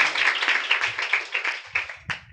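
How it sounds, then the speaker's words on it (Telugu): A church congregation at a Palm Sunday service claps together in loud, rhythmic unison, with a quick run of closely spaced claps ending in one final sharp clap. "ఒకసారి చప్పట్లు కొడతారా? గట్టి కొడతారా?"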